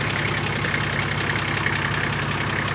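A Nissan GU Patrol engine idles while in gear, a steady low rumble with an even mechanical tick, close and continuous, with no voices.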